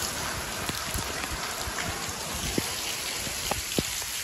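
Steady rainfall pours down outdoors with scattered closer drips and splashes over a constant wash of rain noise, and no talking.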